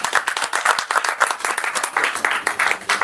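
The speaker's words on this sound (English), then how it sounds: "Big round of applause for Prakash." A small group at a Toastmasters club meeting claps for a member, the individual handclaps close and distinct, forming a lively, uneven patter rather than a smooth roar.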